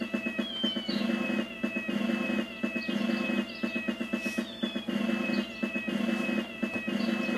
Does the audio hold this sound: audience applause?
no